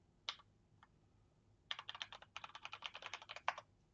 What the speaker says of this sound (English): What am I typing in here?